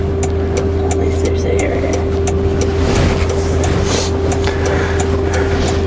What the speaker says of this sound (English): he's towing us up with the trailers attached just to the chain up here